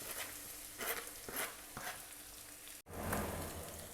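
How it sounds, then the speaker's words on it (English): Roughly chopped onions fry in sesame oil in a cast iron kadai over a medium flame, giving a soft, steady crackling sizzle like light rain, fairly faint and broken once by a brief dropout. "on a medium flame we need to fry this onion"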